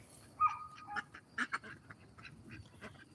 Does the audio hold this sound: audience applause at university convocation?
no